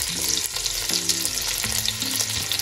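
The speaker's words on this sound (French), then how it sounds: "je vais mettre les morceaux de lapin à faire dorer" Rabbit pieces browning in a frying pan, a dense continuous sizzle heard up close, with occasional clinks and shifts as the meat settles, no talking.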